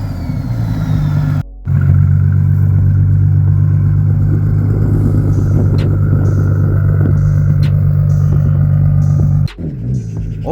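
Tuned BMW M140i, built to roughly 1300 horsepower, revving hard at a car meet: a loud, sustained deep engine drone held for about eight seconds, bracketed by brief cuts, with no talk over it.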